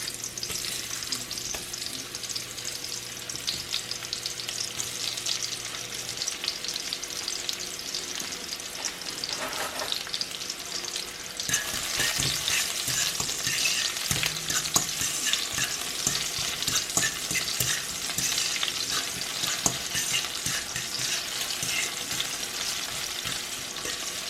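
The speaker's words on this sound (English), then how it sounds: "So now he's cutting some onion, putting it in the oil." Chopped onion frying in hot grapeseed oil on a stovetop for conch and potato curry, a steady crackling sizzle that intensifies midway as more onion goes in, continuous and close with occasional stirring.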